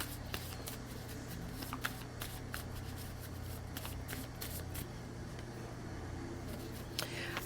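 Tarot cards are shuffled in quick, faint riffling bursts, a soft papery flutter repeating over a low background hum.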